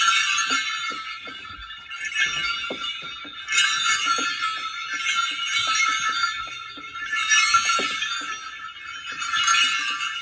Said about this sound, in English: And then, of course, you have your classic sleigh bells.